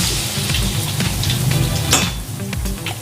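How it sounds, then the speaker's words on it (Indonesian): Tempe mendoan, battered soybean cake, fries in hot oil with a dense, steady sizzle and crackle, close and fairly loud, with occasional stirring clinks and no voices. "tempe mendoan ini gorengnya jangan terlalu kering"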